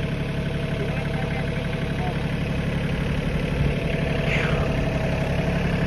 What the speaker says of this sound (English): Pull the tractor up there and I'll show you.